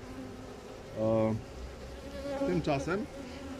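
Honey bees buzz at a hive in short close bursts, two distinct droning passes rising and fading over quiet background, with a brief spoken word nearby.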